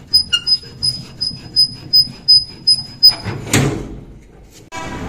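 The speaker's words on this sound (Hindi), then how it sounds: "खोलो दरवाज़ा।" A door being opened at a house, heard as a broad, close rattling scrape midway, after a run of short repeated high squeaks and yelps.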